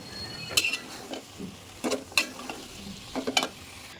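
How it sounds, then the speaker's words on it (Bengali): Chopped vegetables and a home-grown tomato go into a pan of frying spice paste, giving a soft sizzle and several close stirring scrapes and clinks of a utensil against the pan, with no talk. "এটার মধ্যে আমি এখন একটু কেটে রাখা আমার সবজিগুলো দিয়ে দিই"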